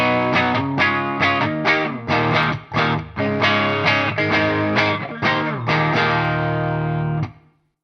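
Electric guitar with a humbucker pickup played through a Two Notes Plexi-style preamp pedal, giving a slightly driven, aggressive tone: loud rhythmic strummed chords in short bursts with brief gaps, ringing out at the end.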